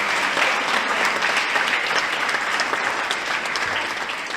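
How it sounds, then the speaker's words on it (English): Sustained loud applause from a crowd at a political campaign rally in a community centre, dense steady clapping filling the whole stretch without pause. "Give yourself a round of applause."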